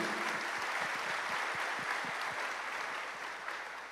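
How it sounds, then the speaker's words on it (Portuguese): A church congregation applauds for a pastor's wife, steady dense clapping from a sizeable crowd filling the room and fading slightly toward the end. "vamos aplaudir"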